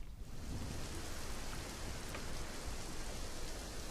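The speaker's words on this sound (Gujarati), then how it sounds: "ભાવનગરના તમામ તાલુકાઓમાં છેલ્લા 2 દિવસથી અવિરત વરસાદ થઈ રહ્યો છે" Heavy, unbroken monsoon rain in Bhavnagar pours down as a dense, even roar of drops on surfaces, steady and fairly close, with no voices.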